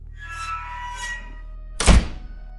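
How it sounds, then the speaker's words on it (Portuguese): A heavy prison gate slams shut with one sharp, loud metallic thunk near the end, preceded by faint tonal drama sound-effect ambience. "O guarda interveio, fechando a grade com um estrondo."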